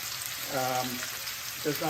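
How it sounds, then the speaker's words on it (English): Beef fillet searing in a hot pan for Beef Wellington, giving a steady close sizzle with faint voice-like tones rising briefly over it. "So we're going to try and get these seared nicely on the outside."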